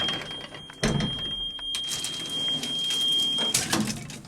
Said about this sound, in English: I'll let you shut the gate and the door.